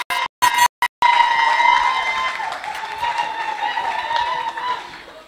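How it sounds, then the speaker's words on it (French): Audience applause at a Miss Francophone pageant, a few sharp bursts at first and then sustained clapping and cheering from a large crowd, loud and steady for several seconds before tapering slightly. "On l'applaudit très très très fort."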